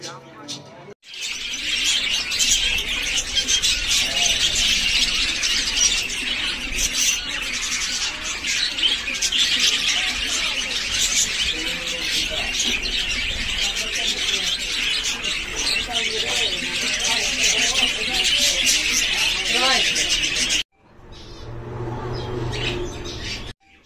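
Many caged birds in a bird shop chirp, tweet and squawk in a loud, continuous chorus for about twenty seconds, and it then drops away abruptly.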